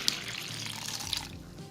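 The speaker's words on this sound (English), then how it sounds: "You're gonna add your amount of water, not gradually, all at one time." Warm water is poured all at once into a well of flour and lard for homemade flour tortillas, a steady close splashing and trickling rush that continues throughout.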